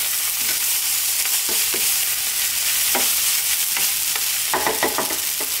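Mushroom fried rice tossed in a pan with a touch of toasted sesame oil, a loud continuous sizzle broken by repeated scraping strokes of a spatula, busier toward the end.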